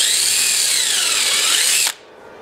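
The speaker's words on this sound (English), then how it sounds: "So now I'm going to just go through the first board. I'll let it hang over here so I don't drill through two." A power drill whines steadily as it bores through a wooden board, the pitch sagging slightly under load before the motor cuts off abruptly, leaving a quiet room.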